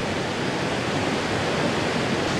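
A continuous heavy roar of water pours down at Iguazu Falls, Argentina, broad and unbroken for the brief moment, loud and near with nothing else standing out.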